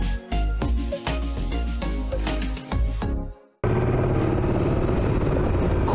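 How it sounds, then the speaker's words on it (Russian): A 2005 Yamaha Drag Star XVS1100A Classic cruiser engine idles with a low, steady rumble, close by, following a short burst of rhythmic music. "Звук и не громкий, но ощущение, что двигатель довольно большой, есть, там что-то лязгает, бумкает, блямкает"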